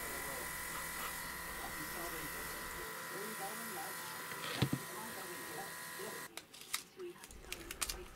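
A cheap budget airbrush spraying paint onto an Airfix Spitfire starter-set model gives a faint, steady buzzing hiss. It runs on unbroken for several seconds, then stops, leaving a few light handling knocks.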